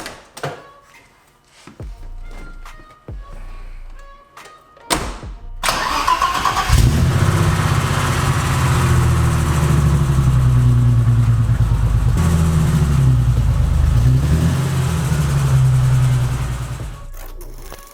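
A BMW E30 that has sat unused for a couple of days is cranked after a few clicks and handling noises, then catches and settles into a loud, steady idle close by.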